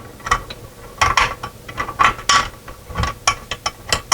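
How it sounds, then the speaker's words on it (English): Screws being turned into the metal bracket of a universal TV stand, a loud, close series of irregular ratcheting clicks and metallic scrapes heard alone. "And then we're going to screw it actually into the bracket again."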